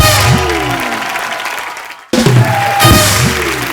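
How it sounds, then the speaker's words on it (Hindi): Studio audience clapping on a Hindi comedy show, a loud dense burst that cuts out briefly then surges back, with voices and cheering mixed into the applause. "जोरदार तालियां"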